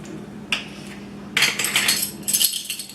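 A metal measuring spoon clinking while scooping Dijon mustard, one short clink, then two bursts of rapid scraping and clattering, close and fairly loud with no talking.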